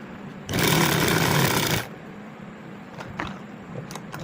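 A sewing machine stitches a patti onto a kurti slit in one loud, steady whirring run of about a second and a half, followed by quieter handling noises and a few faint clicks.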